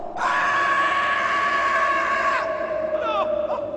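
Terrible screams ring out in a Sherlock Holmes story on the moors, a loud sustained wailing cry lasting a couple of seconds before breaking off into shorter wavering shrieks and trailing away.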